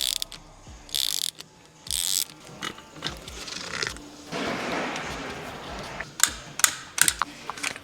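Ratchet on an Audi RS3 8Y undoes the bolts of a strut top mount, giving close bursts of rapid clicking, then a rougher scraping stretch and a final flurry of sharp ratchet clicks.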